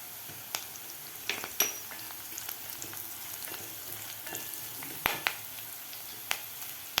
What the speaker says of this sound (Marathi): कांदा आपला व्यवस्थित परतून झालेला आहे तर यामध्ये घालायचे आपल्याला कढीपत्ता